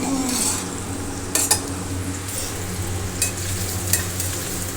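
Curry leaves and chopped onions frying in oil in a pan for a bitter gourd stir-fry, a loud continuous sizzle with a few spoon clinks against the pan.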